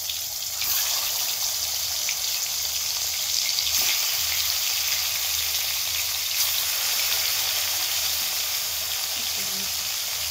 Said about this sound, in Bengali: চলুন মা এখন মাছটা ভেজে নিই